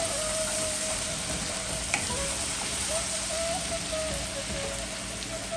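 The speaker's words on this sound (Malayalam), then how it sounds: "ഞാൻ ആ ചിക്കൻ വറുത്ത എണ്ണയിൽ തന്നെ ഒരു ടേബിൾ സ്പൂൺ ജിഞ്ചർ ഗാർലിക് ഇട്ട് കൊടുത്തിട്ടുണ്ട്" Ginger garlic paste frying in oil left from frying chicken for chicken biryani, a steady close hiss like light rain, with a faint constant hum beneath and occasional soft stirring taps.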